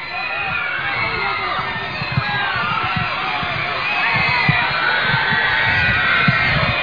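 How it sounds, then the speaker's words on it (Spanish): Crowd of children cheering and shouting from stands in an ovation as the president jogs past, a steady dense roar with scattered whoops and yells throughout. "Pasa trotando ahora el presidente por delante de estas tribunas ante la ovación de los niños."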